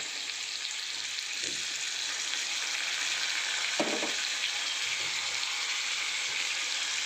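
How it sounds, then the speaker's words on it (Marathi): Chopped onion and tomato sizzle steadily in hot oil with cumin for chole masala, a continuous bright frying hiss with a brief stirring clatter near the middle and no talk. "आपण आता कांदा आणि टोमॅटो ह्याच्यात टाकून घेऊया"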